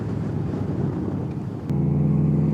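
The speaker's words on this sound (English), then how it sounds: "This guy's car is louder than my bike. It's a Honda Accord." A loud Honda Accord's engine idles with a deep rumble, then revs up into a heavier, steady drone close by.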